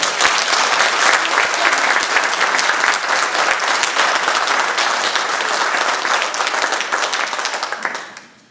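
Loud, continuous audience applause with dense overlapping claps, holding steady for several seconds before fading out abruptly at the end.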